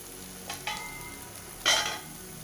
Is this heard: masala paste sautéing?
yes